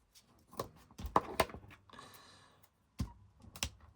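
Paper for an embossed card being trimmed, heard as a series of sharp, close clicks and cuts with one short sliding rasp, spaced irregularly over a few seconds.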